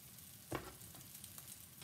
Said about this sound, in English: And you can hear it a sizzle in here.